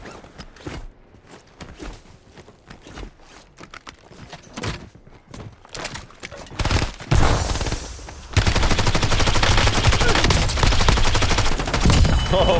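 Gunfire in the Warzone video game starts as scattered single shots with soft handling clicks between them, then breaks into a loud, dense burst of rapid fire that runs to the end.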